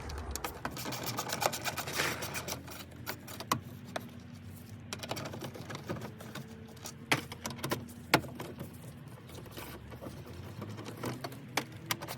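Small 10mm bolts are undone on the dash of a Toyota MR2 SW20, heard as quiet, irregular ratcheting clicks and light metallic taps up close, with no talking.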